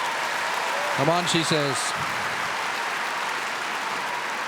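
A tennis crowd at the Australian Open applauds a point in a women's first-round match, a broad steady wash of clapping continuing throughout while a commentator speaks briefly over it.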